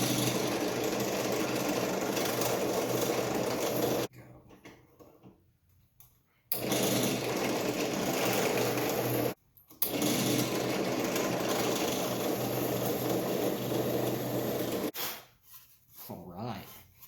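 A drill bores bolt holes through the wooden neck pocket of an Esquire-style partscaster guitar body, running as three sustained, whirring motor bursts. Short near-silent pauses fall between the bursts.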